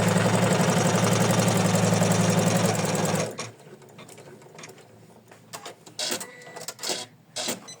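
An embroidery machine stitches a placement line on tearaway stabilizer in a hoop, giving a fast, loud, even mechanical whir for about three seconds before it stops, followed by quiet handling clicks and faint rustling.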